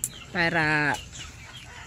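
A chicken in a grower pen gives a single drawn-out cluck-squawk, close and clear, followed by quieter rustling; a brief spoken word is also heard.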